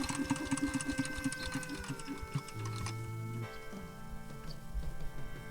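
A farm tractor engine idles with a rapid, even mechanical chugging in rural Laos, fairly faint and steady, while a tonal hum shifts partway through.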